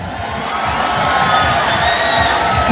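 A crowd at a rural cottage industry fair at Barisal cantonment claps and cheers loudly in a dense, sustained wash of applause and shouts.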